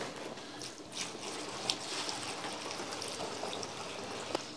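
Cold artesian water pouring through a funnel with a small filter into a 10-litre container, a steady trickling, splashing stream with a few brighter drips, moderately quiet and continuous.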